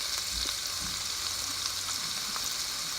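Onions hit a hot pan and sizzle, a soft, steady crackling hiss with faint scattered pops, fairly quiet and continuous with no one talking.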